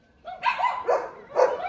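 Several dogs at a stray dog rescue shelter kennel in Wuhan bark and yip in a quick cluster of close, fairly loud barks.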